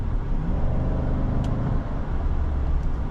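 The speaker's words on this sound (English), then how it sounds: "that V8 not only sounds good, but it'll give you all the power you need" A 2025 GMC Sierra 1500 Denali pickup's V8 engine rumbles deeply and steadily nearby while driving, a low throaty drone with no talking.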